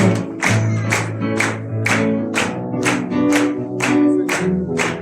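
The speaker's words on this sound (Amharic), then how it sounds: "We are clapping our hand for you." An audience claps hands together in steady unison, roughly two sharp claps per second, loud and continuous for the whole stretch, over sustained singing or music.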